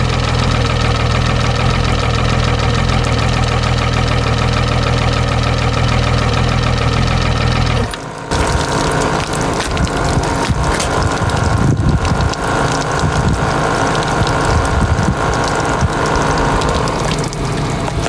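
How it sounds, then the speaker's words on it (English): A hot outboard boat engine, just out of a lake, idles loudly and steadily, then the tone shifts into a rougher running sound as it pulls in and discharges flushing water, churning close by and continuous. "We're going to let that engine pull that water in and discharge any sediment"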